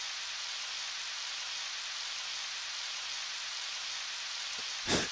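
Steady rain falls in the Harvest Moon 64 farming game as an even, continuous hiss, with a brief louder burst near the end.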